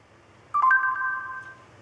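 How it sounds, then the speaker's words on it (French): A smartphone plays a short ringing or chime tone as a voice-initiated call to Paris city hall begins, starting after a quiet moment and then sustaining and fading, close and clear with no talk. "il va appeler automatiquement la mairie de Paris"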